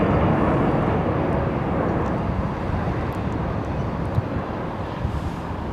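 A Saudi Arabian Airlines Boeing 767 in retrojet livery at London Heathrow gives off a broad, steady engine roar, loud and continuous throughout, with faint wind buffeting the microphone.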